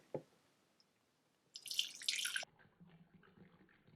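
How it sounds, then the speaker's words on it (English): Water is poured into an electric shaker bottle: a faint tap at the start, then a bright, hissy splash of liquid for about a second, followed by quieter dribbling. "I'm gonna go ahead and pour some water in first."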